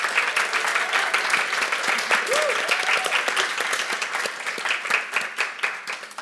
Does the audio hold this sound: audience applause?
yes